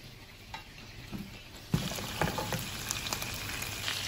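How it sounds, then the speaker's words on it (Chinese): Shrimp pan-fry slowly in oil over low heat, giving a soft, close crackle that turns busier and louder partway through, with scattered pops and no voices. "老铁们一定要小火慢煎"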